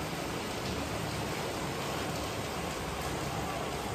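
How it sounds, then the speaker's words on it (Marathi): Steady rain falling at night in Pimpri Chinchwad during an unseasonal downpour, a continuous dense hiss of drops on surfaces, even and unbroken throughout with no voices. "फर्स्ट टाइम पिंपरी चिंचवडमध्ये मी इथं असताना पाऊस पडलाय."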